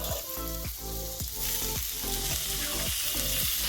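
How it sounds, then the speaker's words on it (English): Chicken sizzles and spits in olive oil in a pan, a steady loud frying hiss with rhythmic scraping taps as the pieces are stirred. "add some olive oil and cook the chicken"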